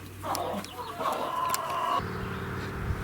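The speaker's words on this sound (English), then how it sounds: "happy chickens" Hens in a small indoor coop give scattered clucks and a drawn-out squawk over a steady background rumble that thickens in the second half, fairly close and moderate in level.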